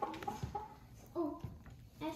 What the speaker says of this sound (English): I've never seen such a tame rooster come out of a box.